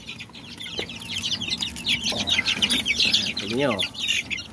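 Three-week-old backyard chicks raised on malunggay chirp and peep in a busy, continuous chorus close by, with clucking fowl mixed in and someone talking briefly over them.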